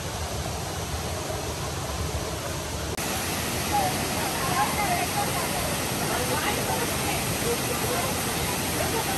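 Kallathagiri waterfall in Chikmagalur, Karnataka, gives off a steady, broad rushing roar while people talk over it.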